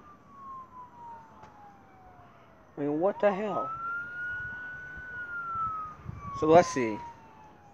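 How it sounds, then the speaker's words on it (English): An emergency siren wails steadily at night in a slow, drawn-out rising and falling tone, fairly distant, while someone talks over it with a couple of sharp louder bursts. "the siren is still going off"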